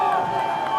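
Crowd noise at the Vivo Rio Pro 2026 surfing contest, a brief steady wash of cheering spectators heard at a distance, with a commentator's voice running over it throughout.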